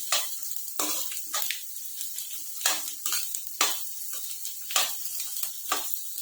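Methi seeds and fennel cooking in a pan, a bright steady sizzle with regular stirring scrapes and spoon clatter at close range, no voices.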